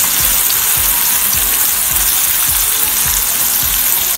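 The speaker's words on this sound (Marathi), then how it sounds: "शेंगदाणे छान तळले गेल्यानंतर त्यात आपण बनवलेला ठेचा टाकणार आहोत।" Peanuts and chili thecha sizzle steadily in a hot pan while being sautéed for Khandeshi vangyache bharit, with soft, regular thumps of stirring roughly every second under the constant loud frying hiss.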